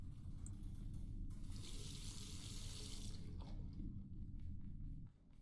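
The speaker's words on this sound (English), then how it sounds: "All that remains is to rinse the plate." Water runs steadily from a tap over a photographic plate being rinsed, a continuous hissing flow lasting about five seconds before easing off near the end, with no voices.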